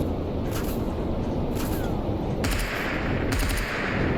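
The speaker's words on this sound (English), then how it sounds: "It's a lot of gunfire." Dense, continuous bursts of rapid gunfire crackle and boom without pause, loud and close, like an intense firefight, in the video game Stalker Anomaly.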